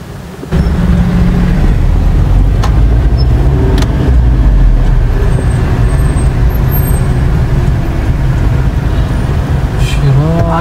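Heavy city street traffic near a restaurant car park in an Indian town, with a continuous loud rumble of cars, buses and trucks, occasional air-brake hisses and horn-like tones throughout, and people talking over it.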